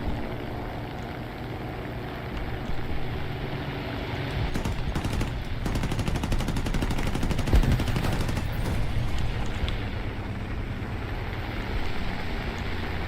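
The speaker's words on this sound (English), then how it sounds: "Come on, 50 cals." Heavy .50 caliber machine guns in War Thunder fire in long, dense rattling bursts over a steady engine drone, strongest in the middle stretch, with no talk.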